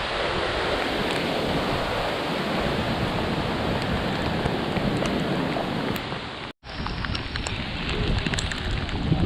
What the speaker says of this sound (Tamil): இங்கே பாருங்கள், இங்கே வாட்டர் ஃபால்ஸ்.